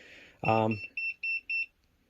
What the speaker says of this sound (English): That's the alarm I was telling you about for the self shut off.